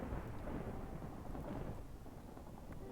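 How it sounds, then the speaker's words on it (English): A Minecraft thunderstorm with steady heavy rain and loud, rolling thunder rumbling throughout, dense and continuous with no voices. "Wow, this is a thunderstorm."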